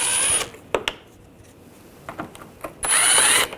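A power drill with a 10mm socket runs two loud whirring bursts while removing bolts from under the front bumper of a 2014-2019 Toyota Corolla, with clanks and ratchety ticks between them.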